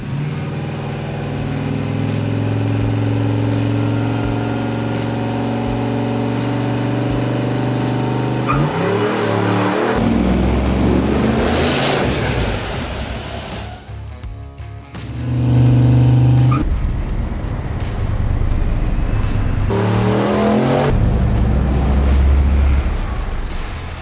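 A Holden Commodore VB SLE engine runs and revs hard during a burnout, a steady loud drone rising into surging revs with tyre roar, close and continuous.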